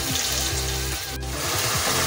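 Tomato masala for chicken tikka curry fries in a pan on high heat, giving a steady, close, crackling sizzle with faint scraping that carries on unbroken and without talk.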